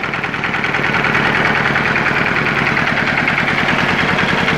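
A small walk-behind motor tractor engine idles steadily and quietly after an oil change to 10W-40, a close, even, continuous chug with a regular low throb and no knocking, alone without talk.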